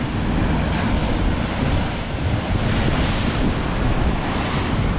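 Powerful sea waves crash and surge below the cliffs at Durlston, Dorset, a loud, continuous roar of surf mixed with heavy wind buffeting the microphone, with no talking.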